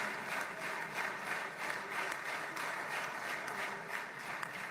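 Sustained crowd applause for Ivanka Trump and Jared Kushner in the Knesset chamber, a steady wash of many hands clapping at even loudness throughout.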